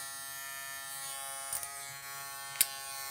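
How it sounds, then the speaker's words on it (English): A Suprent Fangs cordless hair clipper running with a guard fitted gives a steady, even electric buzz, close and constant, with a couple of brief clicks or knocks partway through. "So the clipper does not get any louder with the guard on, so that's good."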